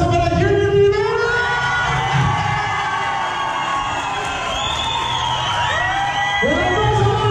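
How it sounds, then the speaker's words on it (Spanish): Loud party crowd cheering, whooping and shouting together at a quinceañera celebration, a dense continuous roar with excited high voices rising over it throughout. "El aplauso para Junior Rivera"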